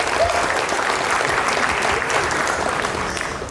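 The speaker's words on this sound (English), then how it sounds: "Could we please have a round of applause?" Guests at a wedding reception applaud the couple in a loud, dense round of clapping that carries on steadily and begins to fade near the end.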